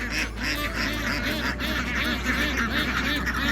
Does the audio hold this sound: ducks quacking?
yes